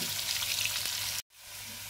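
Potato pieces frying in oil for a Bengali mixed vegetable dish, a continuous soft sizzle that cuts off abruptly and then resumes more quietly.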